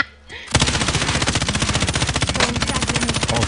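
Rapid machine-gun fire rattles in an online shooter game, a dense, loud burst of evenly spaced shots that starts abruptly and continues without pause.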